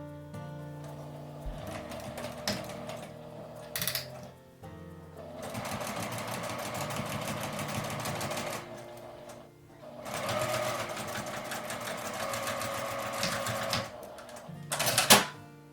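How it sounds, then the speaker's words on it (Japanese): A home sewing machine stitches fabric scraps with a 1 cm seam allowance, running in three close bursts of rapid, even mechanical chatter separated by brief pauses and small clicks as the fabric is adjusted. "1センチの縫い代で縫います。"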